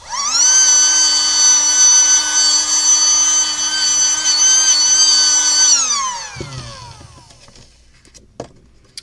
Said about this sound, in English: let's go ahead and use our little blower